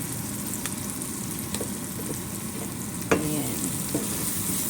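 Seasoned ground beef sizzles in a pan as it is sautéed, a steady frying hiss with a few scraping stirs and clinks throughout. Someone speaks briefly near the end.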